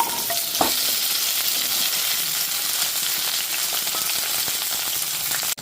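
Cut okra frying in mustard oil in a wok, a dense, steady sizzle heard up close, with a stir or clink near the start and a sharp knock at the end.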